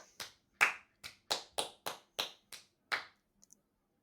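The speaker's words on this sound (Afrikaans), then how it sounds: "Kan jy jou hande klap?" About nine hand claps in a steady, slightly uneven rhythm, crisp and fairly close, part of a children's movement activity, followed by two faint taps.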